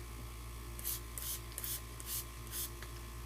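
Spray bottle misting 90% rubbing alcohol onto freshly poured coconut cold process soap, five or six short hissing spritzes in an irregular rhythm, close and fairly quiet over a steady low hum.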